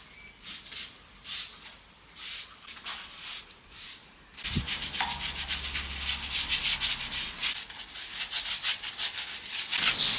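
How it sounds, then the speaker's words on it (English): A table top is scrubbed by hand, first in slow separate rubbing strokes, then in a faster continuous scrubbing after a brief knock, close and fairly loud with no talking. "So I'm going to give it a clean first, see how it looks."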